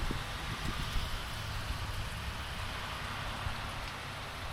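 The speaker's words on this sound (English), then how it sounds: "I'm either gonna stand here getting wet or bike in this rain." Rain falls steadily in the Monongahela National Forest of West Virginia, an even, soft patter and hiss with no voices, heard at a fairly low level.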